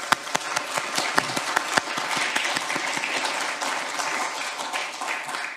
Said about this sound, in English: I think all of our contributors, chairs and speakers today deserve a sincere round of applause.